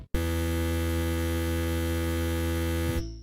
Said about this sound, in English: the rolling bass, it sounds like this